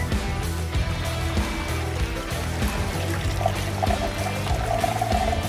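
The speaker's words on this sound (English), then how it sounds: "Pour gasoline into the tank." Gasoline pours steadily into the fuel tank of a LEGO truck, a continuous close trickle and splash that runs the whole time with no voices.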